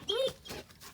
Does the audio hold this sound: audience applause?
no